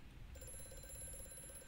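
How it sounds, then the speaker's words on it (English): An old telephone rings faintly in the horror game Amnesia: A Machine for Pigs, a quiet rapid metallic trilling that starts abruptly and continues steadily. "Ah, the phone is ringing."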